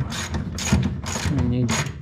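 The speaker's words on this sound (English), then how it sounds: "you torque it to 4 inch-pounds like that" Torque wrench tightening a bolt on a kustom car's fender skirt rubbers, four bursts of rapid ratcheting clicks in a rhythmic sequence, close and clear, with a voice briefly speaking between strokes.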